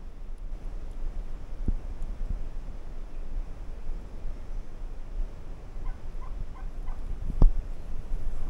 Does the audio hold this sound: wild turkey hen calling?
yes